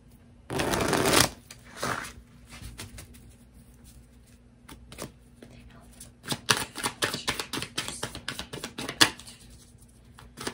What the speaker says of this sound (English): let's just pull some tarot cards